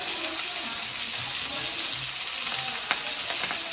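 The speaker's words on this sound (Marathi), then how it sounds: "गाईज आता या बागडा फ्राय होणार आहे. मस्त तेल आपला गरम झालेला आहे तर फ्राय करते बघा." Bagda shrimp frying in hot oil in a pan, giving a steady, dense sizzle close up with a few small pops and no talking.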